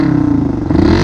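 A Yamaha New Vixion motorcycle with a Tridente F20 Raptor exhaust set to middle mode, revving loudly and close with a deep, throbbing burble that swells toward the end of a one-second burst.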